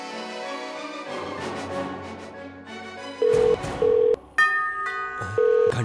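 A telephone number is dialed on a handset: a few short, steady keypad tones sound one after another over background music.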